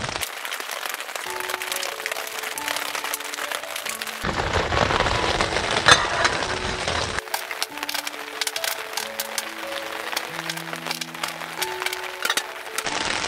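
Steady rain patters at a mountain campsite on Mount Prau, a dense continuous hiss of drops that briefly swells louder in the middle, with no voices.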